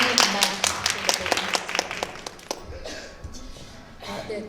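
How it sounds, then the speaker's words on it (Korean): Audience clapping to welcome a film director at a film talk, crisp claps clustered in the first half and then fading, with a voice speaking over the tail as it dies away. "큰 박수 부탁드립니다."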